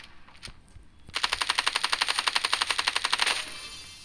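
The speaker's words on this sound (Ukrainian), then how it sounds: "О, є, це кулемет." A machine gun in the mobile shooter Standoff 2 rattles off a fast, even burst of about two seconds of rapid shots after a brief quiet start, then cuts off, with no talking.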